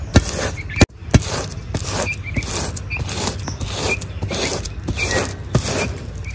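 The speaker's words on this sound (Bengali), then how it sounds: "এটার উপর দিয়ে এবার তালটা আমি ছেঁকে নেব।" Ripe palm fruit pulp is rubbed and pressed through a woven basket strainer, making a steady loud rasping scrape with a few sharp knocks near the start, continuing without pause and with no talk.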